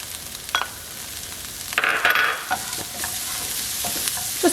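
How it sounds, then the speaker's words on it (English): Chopped onion sautés in oil in a skillet, a steady soft sizzle with close scraping stirs and a louder burst of crackle partway through. "then in the same skillet I will add a little bit more oil, and then I will add the chopped onion."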